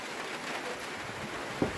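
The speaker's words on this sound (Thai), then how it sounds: "ฝนตก" Light rain falls steadily outdoors in a soft, even patter, with one brief tap near the end and no voices.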